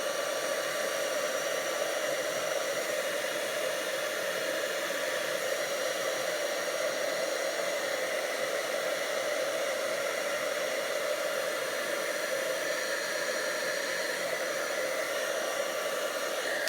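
A heat gun blows steadily while heat embossing a card, a constant close-up rushing hiss with no pauses across the whole stretch.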